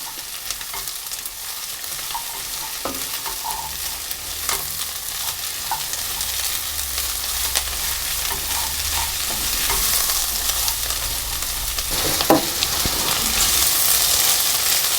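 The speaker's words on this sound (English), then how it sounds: "I'm going to add in the celery, and I'm going to stir that around" Celery and onions frying in a pan for Sicilian caponata, a constant close hiss and sizzle that grows slightly louder, with occasional spoon knocks and scrapes as they are stirred around.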